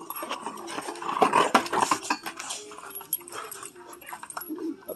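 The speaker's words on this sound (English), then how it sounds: "Puppies." Puppies whimper, yip and scuffle close by in a bursty, irregular flurry of small cries and clatter, with faint voices in the background.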